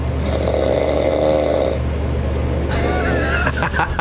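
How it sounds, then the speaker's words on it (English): A person snores loudly in bed, with one long rasping snore followed by a pause and then the start of another, close and dominant with no talk over it. "Snoring occurs when tissue in the back of the mouth collides and vibrates during breathing."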